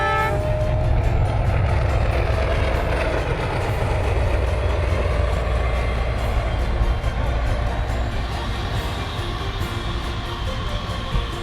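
A train crossing a railway bridge on the Hotan-Ruoqiang line through the desert makes a loud, continuous rumble and clatter of wagons. Brief horn tones sound near the start.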